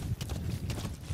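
Horse hooves clip-clop in a quick, steady trotting rhythm in the video game Metal Gear Solid V: The Phantom Pain, close and clear over a low rumbling background.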